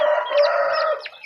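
KUB chickens crowing and clucking up close, a loud, drawn-out rooster call followed by shorter clucks, with no voices.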